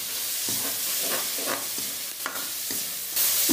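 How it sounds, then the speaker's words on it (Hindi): Two small chopped tomatoes sizzle in a pan of aloo gobi base, a steady frying hiss punctuated by regular scraping stirs of a spatula, close and fairly loud, with no speech. "इसको हम थोड़ा सा भूनेंगे"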